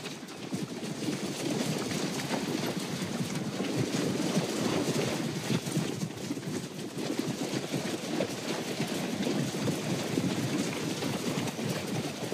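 Steady rain and gusting wind across the Icelandic highlands, a dense continuous wash of noise with low rumbling buffets, as horses arrive on the high plateau.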